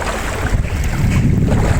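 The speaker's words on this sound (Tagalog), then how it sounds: "grabe ang hangin. Rinig niyo ba?" Strong wind roars across the microphone in a loud, continuous rush on the water at Boracay, with a churning low rumble like surf or water beneath it.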